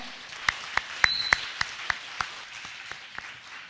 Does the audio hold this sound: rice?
no